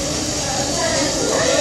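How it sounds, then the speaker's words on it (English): A waterfall at KL Bird Park gives off a steady, dense broadband rush, unbroken and fairly loud, with no voices standing out above it. "Now this is the waterfall."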